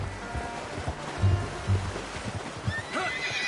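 A horse in a PS4 video game whinnies loudly while hooves clop in a loose rhythm, with soft rustling in the background and no talk.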